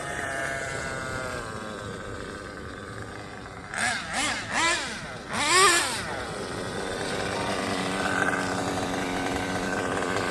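A Kyosho USA-1 Nitro RC truck's small nitro engine buzzes steadily at moderate volume. Midway it breaks into a few sharp, screaming full-throttle bursts, then settles back to the same droning hum.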